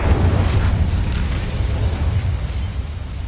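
A fire spell cast in the PS5 game Hogwarts Legacy: a continuous roaring, bursting blast of flame, loud and close, with a rumbling low end that holds steady for a few seconds and no talk over it.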